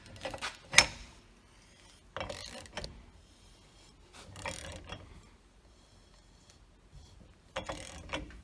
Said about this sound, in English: then grab your socket. Hopefully you have a socket. It's kind of the best way to torque these things down.